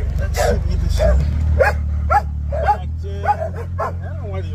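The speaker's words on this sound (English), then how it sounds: "I don't know why they bark like that" Several dogs barking in short yipping bursts, some whining and whimpering, up close over a low steady engine idle during a Honda Talon rear window install.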